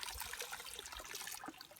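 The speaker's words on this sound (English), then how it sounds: "when you're pouring, you don't want to pour so aggressively that the rocks and the sediment on the bottom pour into this" Water from a stream sample container pours and trickles steadily, faint and close, with soft splashing and no talk.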